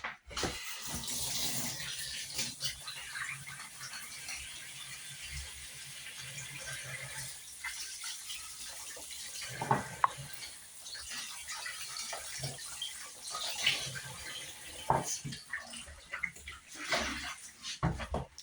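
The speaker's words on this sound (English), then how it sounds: "So we'll just wash my hands." Hands being washed under a running kitchen tap, a continuous splashing water stream with uneven surges and a few clunks, no speech.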